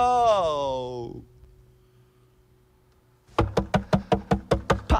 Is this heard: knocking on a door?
yes